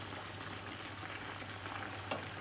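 Chicken cooks in its own released water in a pot while being stirred, giving a soft steady sizzle and bubbling with faint scraping, quiet and close.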